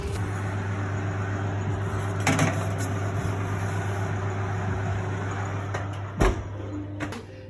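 A brownie tray goes into a kitchen oven: a steady appliance hum runs throughout, broken by a couple of sharp metallic clunks and a door bang, near and moderately loud.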